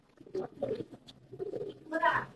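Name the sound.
pigeons cooing, Silver and Pankhi breeds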